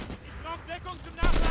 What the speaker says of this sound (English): I think that's the sound of an STG in the distance.